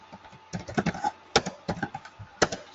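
Close computer keyboard typing comes in quick bursts of clicking keystrokes separated by short pauses, with no talking.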